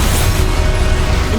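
A short, dense burst of spell-casting effects for the Expelliarmus disarming charm in Hogwarts Legacy, a loud and steady wash of magical noise with no pauses.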